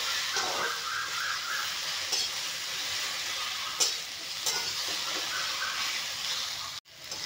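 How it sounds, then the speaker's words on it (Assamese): Okra fries in a pan while being stirred, giving a soft continuous sizzle with occasional scraping and clatter of the spatula, including a sharp knock near the end. "এতিয়া অলপমান লাৰি দিম।"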